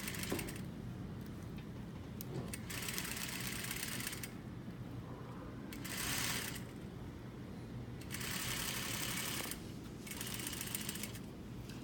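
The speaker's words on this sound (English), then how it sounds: "So I'm just sewing along the 1/4 inch." A sewing machine stitches a sailor collar a quarter inch from the edge in bursts of rapid mechanical whirring, separated by short pauses, close and steady, with no talking.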